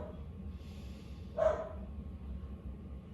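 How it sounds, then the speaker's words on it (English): One faint, distant dog bark rises briefly above a steady low background hum. "If you hear barking in the background, that is Yogi Cinnamon"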